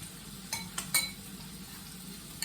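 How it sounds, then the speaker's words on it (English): Faint stirring of carbonara sauce with black pepper in a bowl, with a few soft clinks of utensil against the bowl over a low background hiss. "Give this a mix around"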